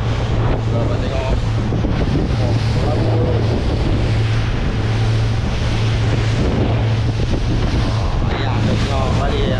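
Strong wind buffets the microphone on open water with a boat nearby, a loud continuous roar mixed with waves and a steady low engine drone, and faint voices underneath.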